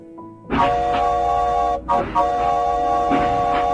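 A loud, sustained rumbling roar with a steady tonal whine starts abruptly and keeps going, like a passing train, with rhythmic clanks under it.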